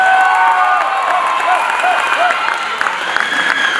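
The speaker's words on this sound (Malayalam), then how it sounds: "നമുക്ക് എല്ലാവരുടെ പേരിലും ഈ എല്ലാ കലാകാരന്മാർ കലാകാരികൾക്കും നിറഞ്ഞ കൈയടികളും" An audience claps steadily for the cast after a drama performance, dense, even applause that stays fairly loud and continuous and thins slightly toward the end, with a few voices mixed in.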